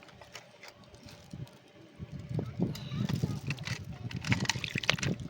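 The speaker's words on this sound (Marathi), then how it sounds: "अख्खा ओतून टक पाणी" Water is poured and sloshed out of a brass pan while catching fish in a traditional way outdoors, a soft splashing and trickling that swells toward the end, heard beneath people talking.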